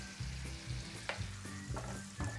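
Green onions and chives sizzling in butter in a pan, a steady close frying hiss with a few soft stirring scrapes and clinks, no voices.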